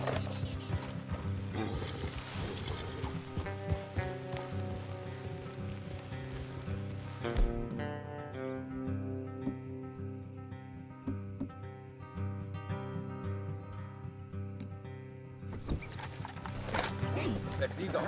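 Horses in Red Dead Redemption 2 clip-clop along in a steady rhythm through rain under game music, while characters talk over the hoofbeats. There is a short break near the middle.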